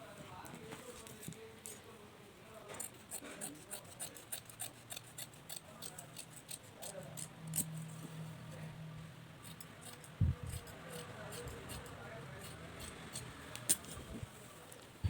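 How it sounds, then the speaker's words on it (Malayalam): Scissors cut through fabric for a pair of shorts, giving soft, close snips and rustles at an irregular pace, quiet throughout with a low hum behind them. "ഇനി നമുക്കിത് കട്ട് ചെയ്തെടുക്കാം."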